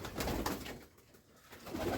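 Pigeons in a village loft coo in soft, repeated low calls, several overlapping bursts with a short lull midway, fairly close and with no talking.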